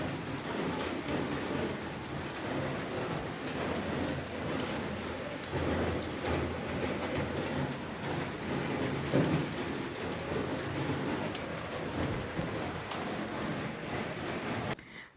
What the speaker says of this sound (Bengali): আর বৃষ্টি বাইরে,